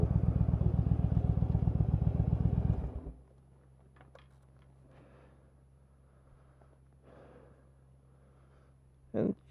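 A motorcycle engine idles loudly and unevenly for about three seconds, then cuts out as the bike is parked, leaving a quiet background with faint clatter and one brief knock near the end.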